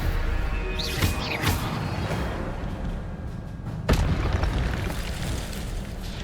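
Magical Stupefy spell blasts in Hogwarts Legacy go off as booming, bursting impacts, a couple of sharp hits rising over a dense, continuous rumble of combat noise.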